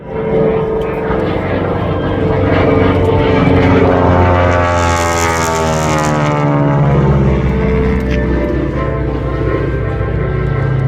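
North American Harvard Mk. II performing at an airshow in Debert, Nova Scotia: a loud, steady propeller-engine drone close by, its pitch sweeping and shifting as the plane passes, with an announcer talking over it.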